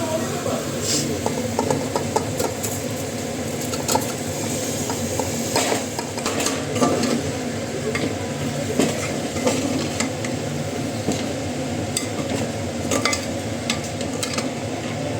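Rice and lentils stir-fried in a pan with cooked-down spice paste for khichuri, giving a continuous close sizzle broken by repeated scraping and clinking of a spoon against the pan, with a person talking over it.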